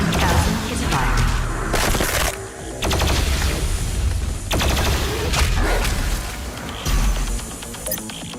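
BFG 10,000 firing in a video game, repeated loud bursts of rapid machine-gun-like fire and booming blasts in several waves, close and dominant.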